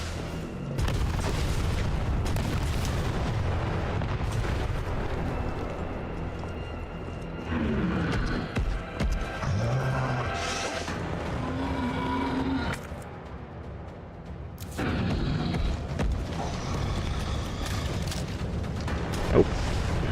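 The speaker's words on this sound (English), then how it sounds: "Rocket launcher? Really?" Rocket launcher blasts in Resident Evil 3 Remake, heavy booming explosions and rumbling impacts recurring through a dense, loud game soundscape with no talking.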